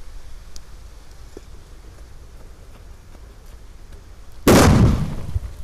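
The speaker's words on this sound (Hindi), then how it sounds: "अब टेस्ट करते हैं मीडियम साइज सोतली बम का, एटम बम का, देखते हैं ये कितना ऊपर ले जाता है इस कटोरी को।" A medium sutli bomb firecracker explodes under a bowl, one sudden loud blast with a decaying rumble after a quiet stretch of faint outdoor background.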